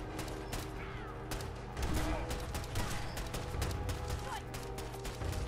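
Rapid gunfire during a firefight in Fallout 4, a steady stream of sharp shots and bursts over a rumbling background for several seconds, with a voice faintly underneath.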